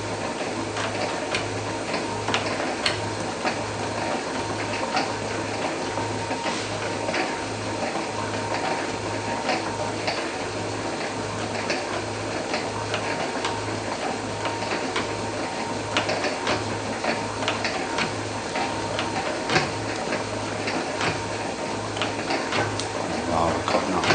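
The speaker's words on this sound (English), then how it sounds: "Now we're cutting that weld. See how I'm feeding on the way back." An Atlas metal shaper cutting a weld bead, its ram stroking back and forth in a steady repeating rhythm with ticking clicks of the feed, while someone talks over the workshop machinery.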